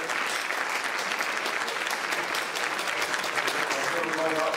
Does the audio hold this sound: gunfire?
no